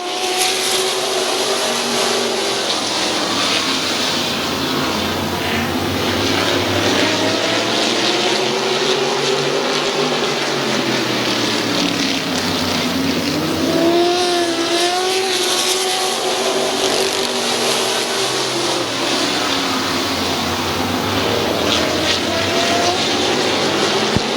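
Race cars circling Midvale Speedway during Ohio Invitational Night after a green flag, a loud continuous roar of engines rising and falling as cars pass, with tires squealing through the turns and no talking.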